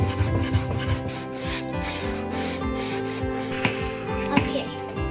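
Wood sanding on a kids' wooden birdhouse: continuous close-up scratchy rubbing strokes in a quick back-and-forth rhythm, loud and alone.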